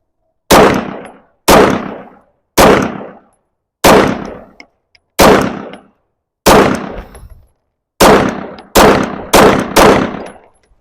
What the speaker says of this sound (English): Gun's loaded. Let's just keep shooting.